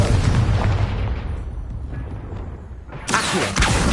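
A Confringo spell in Hogwarts Legacy erupts in a loud, booming blast that rumbles and decays, followed by a second sharp crackling burst about three seconds in.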